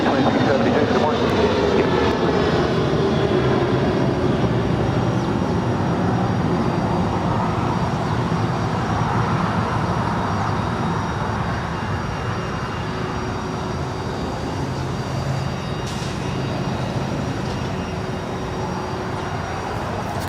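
A jet airliner rolls for takeoff on runway 25 right at LAX, a broad, sustained engine roar that stays loud and steady throughout and slowly shifts in tone, heard from a distance with a faint radio voice underneath.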